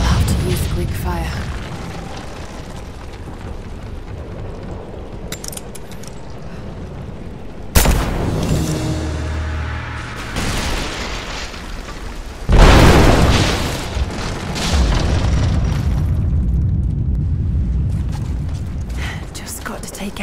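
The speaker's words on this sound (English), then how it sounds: "Looks like I'll have to use Greek fire." In Rise of the Tomb Raider, a Greek fire blast hits with a sudden deep boom, followed by a second heavy burst and rumbling debris over low game ambience, with a voice talking in between.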